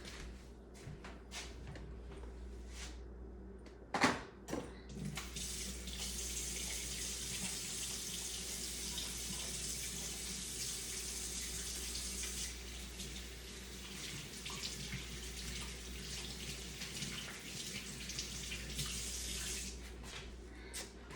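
Water runs steadily from a tap into a sink while hands are washed, a continuous close hiss with a brief clunk near the start and the flow swelling louder through the middle.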